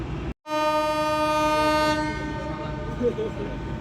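The Jahanabad Express sounds a long, loud horn blast at night as it departs Phultala railway station heading toward Khulna, the horn starting abruptly after a brief silence and trailing off over rumbling train noise.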